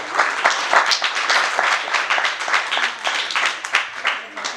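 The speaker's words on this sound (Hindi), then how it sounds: "तो इनके लिए भी जोरदार तालियां होंगी।" Audience applause at an opening ceremony in Quetta, Balochistan: dense, steady clapping from a crowd that fills the whole stretch at an even loudness, with small swells as the claps overlap.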